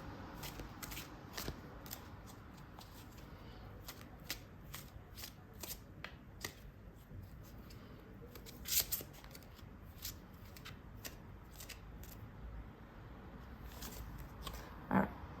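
Tarot cards are shuffled by hand in quick, close riffling bursts and soft flicks, a repeated irregular pattern of crisp papery snaps and slides, fairly quiet and with no talking.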